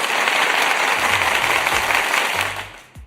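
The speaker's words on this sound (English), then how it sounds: "Let me get the applause button for Kim real quick." Canned applause from a sound-effect button swells as dense, loud clapping, then fades out near the end, with faint voices underneath.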